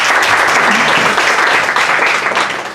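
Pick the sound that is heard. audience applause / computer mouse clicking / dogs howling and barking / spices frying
audience applause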